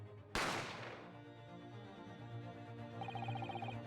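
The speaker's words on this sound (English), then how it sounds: "You heard the gunshot, you mean?" A single sharp gunshot from The Great Ace Attorney Chronicles cracks out near the start and decays, followed by a sustained musical drone with a bell-like tone near the end.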